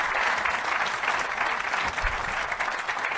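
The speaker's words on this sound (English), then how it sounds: "Can we give another round of applause for Levy?" A college lecture audience applauds the guest speaker at the close of a talk, producing steady, dense clapping from many hands, fairly loud and even for the whole stretch, with no voices over it.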